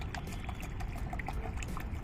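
Water trickling and pouring into a jeevamrit mixture for organic coriander growing at home, a soft steady splashing stream, faint and close, with no talk.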